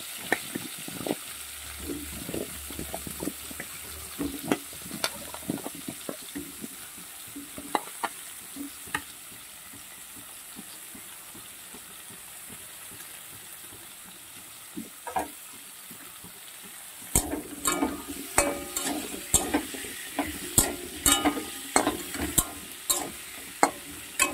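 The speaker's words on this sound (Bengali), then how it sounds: "আলুগুলো ভেজে নিচ্ছি" Large chunks of potato frying in a pan with a little salt and turmeric, a constant close sizzle broken by scraping stirs, with the frying growing louder and busier toward the end.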